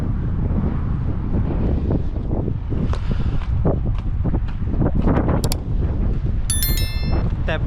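Sea wind gusts across the microphone on the Chonburi coast, a loud, uneven rumbling buffet with scattered thumps and a brief high chime near the end, no talking.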